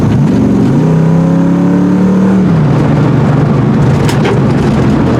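A Foxbody Mustang's engine pulls hard under acceleration, its note climbing steadily, then dropping sharply on a shift and carrying on at a lower pitch, loud and close with no talking.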